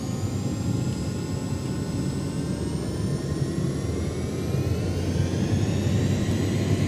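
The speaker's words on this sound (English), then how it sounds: "There we go, nice and alive on the engines." Jet engines spool up for takeoff in an X-Plane 12 airliner on a charter flight out of Gdansk, a steady loud roar with rising whining tones building continuously, no talk over it.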